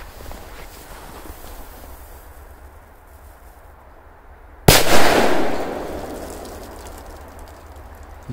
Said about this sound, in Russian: давайте бабахнем здесь Супер Бенджер